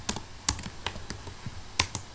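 Fingers tap out a short burst of keystrokes on a computer keyboard, quick uneven clicks with a couple of sharper key strikes, close and fairly quiet.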